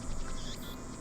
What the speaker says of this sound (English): I can hear the chirping of cicadas